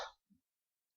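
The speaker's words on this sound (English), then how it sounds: "I'm sorry, I'm coughing tonight." A man gives a single short cough at the start, then a faint throat sound follows after a brief pause, in an otherwise quiet setting.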